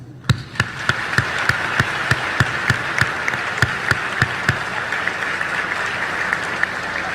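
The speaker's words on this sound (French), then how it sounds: "À vous donc ce concert d'applaudissements." At a graduation ceremony, an audience breaks into applause that swells into a steady wash of clapping, punctuated by sharp, rhythmic louder claps at regular intervals.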